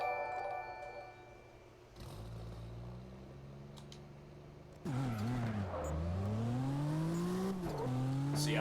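A car in a video game revs and accelerates with rising and falling engine pitch and a brief tire squeal, growing louder and busier in the second half, with no talk over it.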